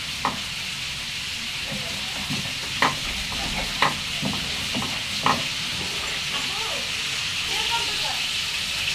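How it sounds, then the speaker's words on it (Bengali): Ingredients are stirred and mixed together in a pan while cooking, a soft steady sizzle with a series of sharp utensil scrapes and knocks against the cookware, and a voice speaking faintly underneath. "সব কিছু একসাথে মিক্স করে নিতেছে।"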